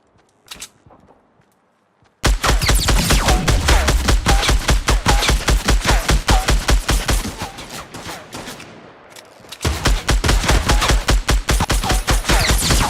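Purple SCAR assault rifle in Fortnite firing long, rapid automatic bursts, with loud, steady, evenly spaced shots, a brief pause near the start and a lighter dip before the firing resumes.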